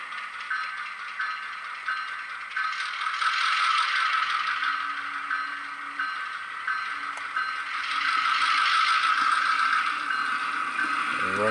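A locomotive running through a rail yard gives off a continuous metallic rattle with clatter and a faint low rumble, steady throughout.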